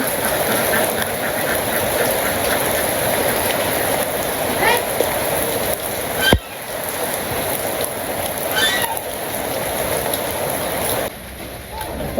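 Steady rain falls outdoors around a farmer's home in a dense, continuous hiss, with a sharp knock partway through and a few faint background calls.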